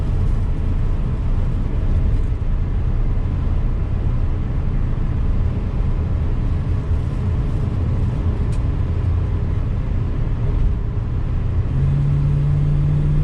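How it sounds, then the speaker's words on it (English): A 1966 Ford Mustang coupe with a 2-barrel engine driving on the road, a loud steady low engine and road rumble heard from inside the car, continuous throughout, no speech. "For a little 2-barrel Mustang, it's actually a real pleasure to drive."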